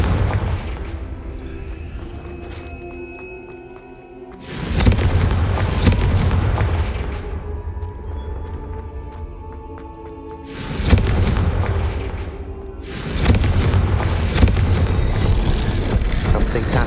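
Confringo blast spells erupting in Hogwarts Legacy, three heavy booming explosions spaced several seconds apart, each a loud close burst with a long rumbling tail over a steady low background.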